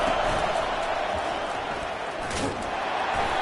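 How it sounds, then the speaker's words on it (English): Stadium crowd in a college football video game roars steadily as a broad, continuous wash of noise, loud and close throughout, with a commentator's voice running over it. "listen to this crowd roar."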